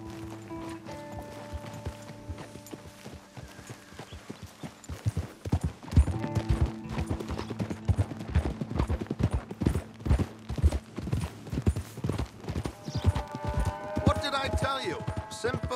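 Hooves of a galloping horse in Red Dead Redemption 2 beat a fast, steady clip-clop, picking up partway through and running under background music and voices.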